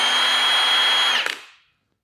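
A Milwaukee 2767 cordless impact wrench spins freely at speed setting two with a steady high whine, then the trigger releases and the motor winds down to silence within about half a second.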